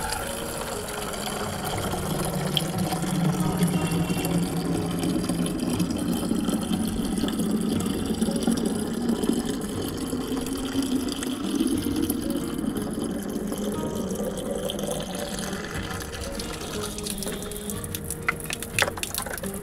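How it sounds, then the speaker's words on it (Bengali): Water running from a tap into a container while filling it, a continuous close gushing rush that holds steady and shifts slightly in pitch as the vessel fills, with no talk. "খেয়ে এসে এখন যাচ্ছি আমি জল ভরতে"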